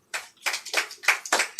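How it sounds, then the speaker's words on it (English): An audience at a school oratory competition gives a short round of applause: a handful of steady, evenly spaced claps, moderately close and heard alone. "A round of applause for them."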